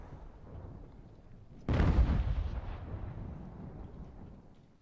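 A single heavy cannon blast booms during a fort assault in Ultimate General: American Revolution, then a long rumbling decay fades under low, steady battlefield ambience.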